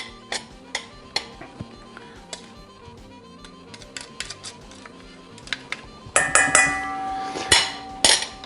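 Ginger being grated on a small kitchen grater, sharp scraping and clinking strokes at an irregular pace, turning louder and busier near the end.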